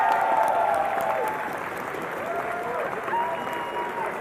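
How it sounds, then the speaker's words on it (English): An audience applauding after a League of Legends grand final at an IPL4 event, a sustained wash of clapping from a crowd, with a voice speaking over it through a sound system. "Can we give them a round of applause"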